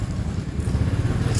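A motorcycle engine putters nearby with an uneven low throb, idling or moving slowly for a moment.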